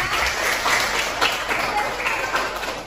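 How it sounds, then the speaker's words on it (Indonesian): Schoolchildren in a classroom clapping for a classmate, a steady round of applause with a few louder hand claps and children's voices mixed in. "Jadi tepuk tangan dulu untuk temannya."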